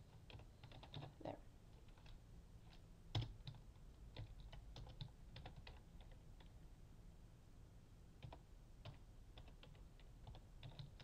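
Someone types slowly on a computer keyboard, with irregular soft key clicks and a few louder taps, close but quiet in a still room.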